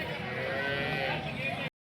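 A cow lows steadily at a busy Sangola cattle market, a single sustained moo close to the recorder with market bustle behind it.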